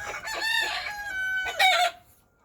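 Ornamental chickens and a rooster in a farmyard pen, with a loud nearby crow that rises and falls over about two seconds, followed by a short squawk and then quiet.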